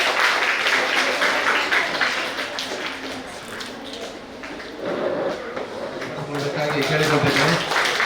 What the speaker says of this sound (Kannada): ವಿದ್ಯಾರ್ಥಿಗಳೆಲ್ಲರೂ ಚಪ್ಪಾಳೆಯ ಮೂಲಕ ಅವರನ್ನು ಅಭಿನಂದಿಸಬೇಕಾಗಿ ಕೇಳಿಕೊಳ್ತಾ ಇದ್ದೇನೆ